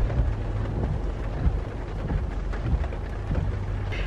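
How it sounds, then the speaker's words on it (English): Heavy rain pours steadily during a storm while waiting to go look at cars, a dense, continuous hiss with low rumbling underneath and no talking. "it is still pouring here, even after we went and got lunch"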